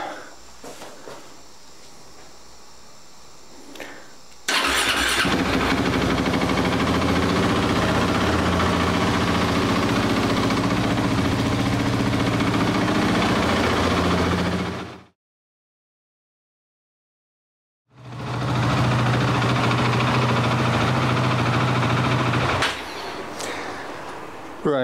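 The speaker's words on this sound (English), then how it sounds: "I'll just start the bike up. Get the oil circulating." A Husqvarna 701 motorcycle engine starts and idles steadily up close, a loud continuous drone after a quieter stretch, interrupted by a brief gap before the idle resumes.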